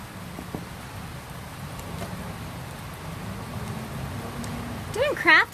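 Rain patters steadily on a hut, a soft continuous wash of drops heard from inside, with a brief louder rustle near the end.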